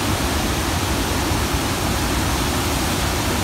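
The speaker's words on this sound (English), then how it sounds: "I'm heading down to the waterfalls, so see how this is." A Temagami waterfall gives a steady, loud, full-bodied rush of falling water that stays even from start to end, with no voices.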